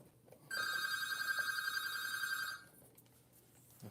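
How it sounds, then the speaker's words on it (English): A telephone rings once in a bright, steady electronic trill lasting about two seconds, close and clear over a quiet room. "Of course there's a phone call."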